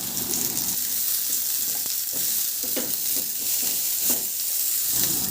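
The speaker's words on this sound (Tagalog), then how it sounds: "Igisa ko na rin yung sibuyas." Onion and garlic sautéing in a little oil in a pan, a constant close sizzle broken by irregular stirring scrapes and clicks, with no voices.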